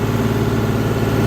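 A John Deere 5310 GearPro tractor engine runs at full throttle near its 2100–2200 rpm rating, giving a steady, loud, even diesel drone with a fast regular pulse and no voices.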